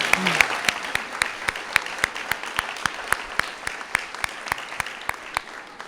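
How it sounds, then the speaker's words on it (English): Applause at a research and development award ceremony, a steady patter of clapping from a modest audience with sharp individual claps standing out at a near-regular pace, moderately loud throughout. "All right, another round of applause."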